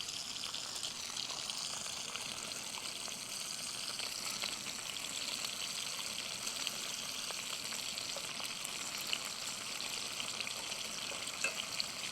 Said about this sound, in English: Got our scrambled eggs happening right there.